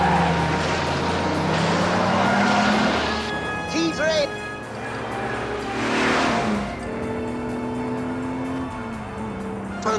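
Engines rev and accelerate during a car stunt scene in the James Bond film On Her Majesty's Secret Service, swelling and fading as vehicles pass, with overlapping talk and shouts through the action.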